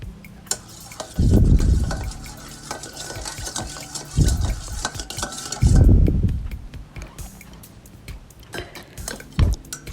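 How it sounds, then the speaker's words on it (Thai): Spaghetti salad is stirred with salt and pepper in a bowl, giving repeated clinks and scrapes of utensil against the bowl with bursts of wet, sloshing mixing, close and fairly loud. "ใส่เกลือนิดหน่อยนะพริกไทยนิดหน่อย แล้วก็คนผสมให้เข้ากัน"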